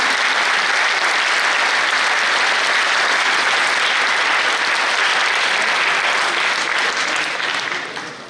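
Sustained, dense applause from a large audience fills a convention centre hall in Varanasi, loud and steady throughout and tapering only slightly at the very end.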